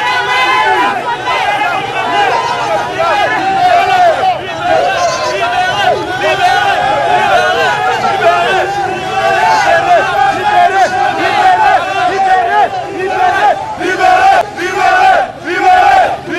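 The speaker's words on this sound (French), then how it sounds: "Dans la foule, des cris rythmés et des musiques religieuses par intermittence" Street protest crowd shouting rhythmic chants, a loud, continuous mass of voices with repeated pulsing cries and surrounding chatter.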